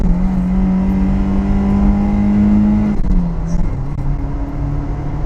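SEAT 131 engine running through its stock factory exhaust, a loud, close droning hum that holds steady, then dips and shifts pitch as the revs change.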